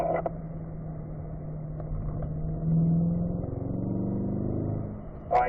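A Corvette engine accelerates steadily on a race track, a continuous mid-pitched drone that rises and swells through the middle of the run, with a brief louder burst at the end.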